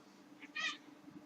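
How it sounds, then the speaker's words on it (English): A pet cat lets out a single short, bright meow indoors during a late-night gaming session, rising briefly above a quiet, steady background hum. "cat is being very talkative tonight"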